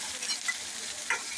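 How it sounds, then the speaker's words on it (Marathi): Ground masala paste of raw ginger and garlic fries in hot oil on a low flame for ravas fish curry, a steady close sizzle with a couple of brief stirring scrapes and no voices. "हे आता चांगलं परतून घेऊया"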